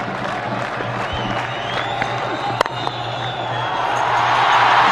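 A cricket crowd at a Pakistan versus India match in Sharjah in 1999 roars and applauds, a dense, loud, distant wash of cheering and clapping that swells toward the end.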